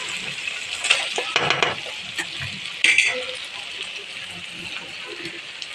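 A curry of ivy gourd (dondakaya) is stirred as it fries in a pan, with steady sizzling and scattered clinks of a spoon against the metal close by.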